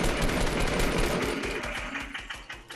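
Gunfire in the video game Fortnite during a fight over platforms, rapid bursts of shots in quick rhythmic succession that are loud at first and thin out into scattered, fainter cracks.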